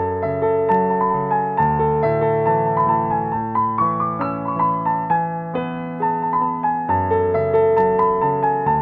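A piano plays the melody an octave lower than usual, with flowing arpeggiated notes and sustained bass in a steady, close, moderately loud performance with no talking.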